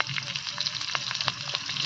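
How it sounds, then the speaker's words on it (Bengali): Raw mango fries in a pan in a village kitchen, giving a short burst of crackling sizzle with light stirring scrapes, moderately close. "এবারে হবে কি আমটা ভাজা হবে"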